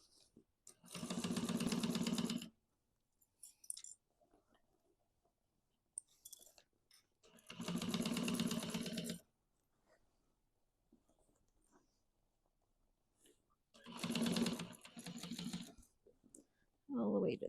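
A sewing machine stitches the bottom seam of a duffel bag in three separate bursts of a few seconds each, close and fairly loud, with someone talking quietly in the gaps between runs.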